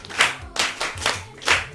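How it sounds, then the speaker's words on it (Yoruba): Audience applause at a Yoruba church gathering, five or six brisk bursts of hand clapping rising and fading in quick waves, fairly close and loud. "ó yẹ pàtẹ́wọ́ fún gbogbo wa lápapọ̀"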